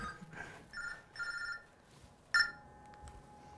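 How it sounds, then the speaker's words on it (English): A mobile phone rings from a pocket in short repeated electronic bursts, muffled and moderately faint, then a sharper click and a sustained tone as it is pulled out; no one speaks. "Hello, Larry Molnar's phone."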